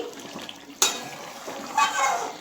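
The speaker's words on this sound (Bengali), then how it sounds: "আমি ঢাকা খুলে দিলাম এটা একটু মেরে দিচ্ছি" A lid lifted off a pan of eggplant curry with a sharp clank, followed by scraping and stirring of the vegetables in the pan, moderately close with quiet background.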